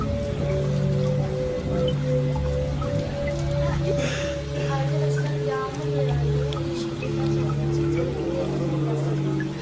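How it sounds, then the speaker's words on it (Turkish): Steady rain mixed with snow patters and drips on a surface, with a low tonal hum running underneath throughout. "hem yağmur yağıyor hem kar yağıyor hem şimşek çakıyor"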